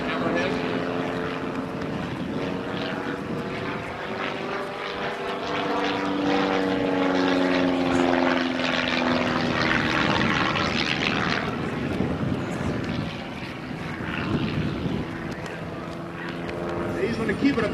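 Propeller plane droning overhead in steady aerobatic flight, rolling upside down and over at an air show, with the engine note shifting as it maneuvers while a commentator talks over it throughout.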